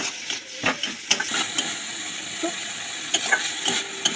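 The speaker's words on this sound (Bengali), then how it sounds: "এবার চিকেনটাকে ভালো করে ভেজে নেব।" Chicken seasoned with salt, black pepper and turmeric frying in a pan for chicken rolls, a soft continuous sizzle broken by repeated clinks and scrapes of a stirring spatula, close and without talk.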